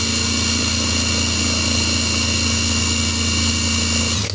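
Laxton LX25 impact wrench spinning freely at its lowest speed setting, a steady, loud, unbroken motor whine with no talking, cutting off abruptly at the end.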